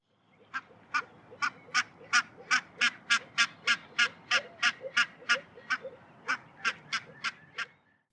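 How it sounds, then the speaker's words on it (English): A long run of loud, yapping barnacle goose calls, about twenty sharp honks in a fast, steady rhythm, close and clear with little else around them. "Barnacle geese have been described as very noisy birds with yapping calls."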